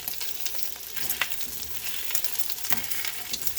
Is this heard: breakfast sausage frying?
yes